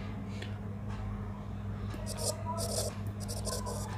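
Pen scratching on paper in short bursts of writing strokes during a maths lesson, faint and close over a low steady hum, with a voice speaking softly at times.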